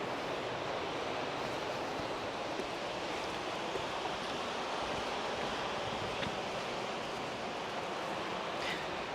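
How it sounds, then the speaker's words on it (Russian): Sea waves wash onto a beach in Spain, a broad steady roar of surf blended with wind rumble on the microphone, continuous and fairly distant with no talk. "Пойдемте, пойдемте, пойдемте к морю."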